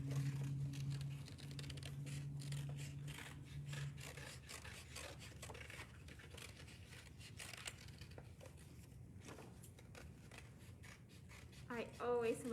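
Scissors snip and rasp through paper while cutting out a traced hand shape for a storytime craft, a steady close run of small cuts under a voice talking.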